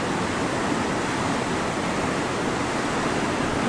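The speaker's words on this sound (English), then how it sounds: "great waterfall." A large waterfall in a busy tourist spot, heard from a bridge, gives a steady, loud, broadband rush of falling water that fills the whole short stretch without a break.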